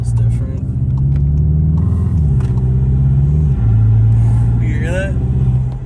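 A tuned 2021 Volkswagen Jetta GLI pulls hard through the gears, its loud, close engine and intake note climbing then dropping at two shifts, with a voice rising briefly near the end.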